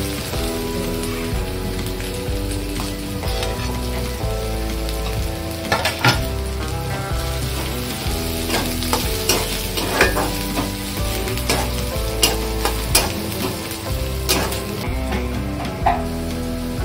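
Onion frying in butter in a pan, being stirred while cooking for an Agri-style crab thali: a steady loud sizzle with scattered sharp clicks and scrapes of the spoon, close and continuous, no talk.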